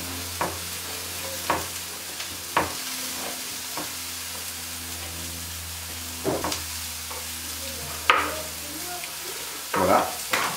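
Poularde gizzards, confit and fresh, frying in fat in a pan with shallots and mushrooms, with a soft steady sizzle broken by several sharp utensil scrapes and stirring clatters.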